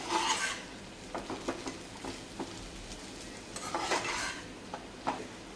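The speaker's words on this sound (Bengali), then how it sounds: "এবার আমি ভালো করে মাছ আর আলুর মিশ্রণটা মিশিয়ে নেব।" A spoon scrapes and clinks against a pan while a fish and potato filling is stirred and mixed, irregular rubbing strokes with small metallic taps, close by and without talk.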